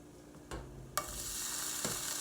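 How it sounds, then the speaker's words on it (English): Potato gnocchi dropped into melted butter in a skillet, a few soft plops followed by a steady close sizzle that swells and holds, with no talking. "I'm going to transfer them into this skillet that I have melted some butter in"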